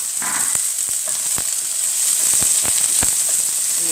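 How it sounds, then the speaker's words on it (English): Onion and garlic sizzle in a very hot pan for a sweet potato and bean vegetable stew, a steady bright hiss with a few soft knocks of a utensil scattered through, close and alone with no talk. "We cook the onion and the garlic together for a short while"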